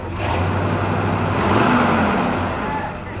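American cars idle and rev at a car meet at Stříbrný rybník in 2025, giving a steady, loud exhaust rumble with a rising rev near the middle of the clip and faint voices in the background.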